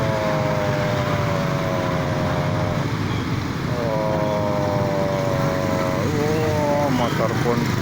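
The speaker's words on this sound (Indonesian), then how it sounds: "Motor pun lancar, ternyata tidak ada halangan." A motorcycle rides through a street flooded by a river overflowing after heavy rain, its engine a steady drone with a rising then falling whine, heard alongside rushing water and continuous crowd chatter.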